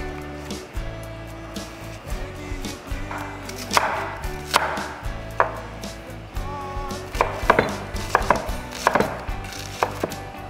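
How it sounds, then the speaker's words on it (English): A knife chops a shallot on a cutting board in a quick, uneven run of close, crisp knocks that grow denser near the end, with a low hum underneath. "Cut the shallot."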